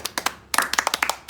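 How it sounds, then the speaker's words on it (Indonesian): Scout-style rhythmic clapping by a group of participants, two quick rounds of patterned claps close by, with crisp sharp hand strikes and a short pause between rounds. "Coba 2 kali tepuk pramuka."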